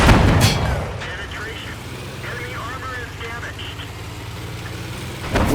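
A single heavy boom from a tank gun in World of Tanks on the Karelia map, loud and sudden at the start and again near the end, with engine rumble underneath and someone commenting over it.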